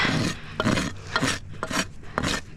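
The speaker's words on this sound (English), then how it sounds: "gonna just rasp my Mustang roll" A sharp new rasp filing the Mustang roll on a horse's hoof during a trim, producing four or five steady, gritty rasping strokes in a regular back-and-forth rhythm, loud and close with no talking.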